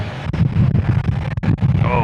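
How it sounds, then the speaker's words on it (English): Gusty wind buffets the microphone on the Las Vegas Strip at night, a loud rushing roar that rises and dips with a brief whistle near the end. "Oh, it's windy."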